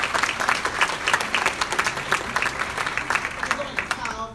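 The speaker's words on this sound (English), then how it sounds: "let's give them a big round of applause." An audience claps steadily through a board of education meeting, a dense, moderately loud patter of many hands lasting several seconds and tapering at the end, with some voices mixed in.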